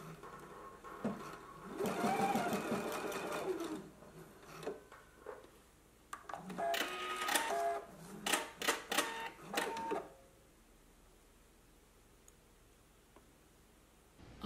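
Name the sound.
sewing machine tacking bodice pieces together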